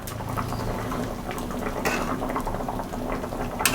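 Taro (man kachu) boils in a pot for a katla fish curry, giving a continuous close bubbling and gentle popping patter, with a faint clink near the end.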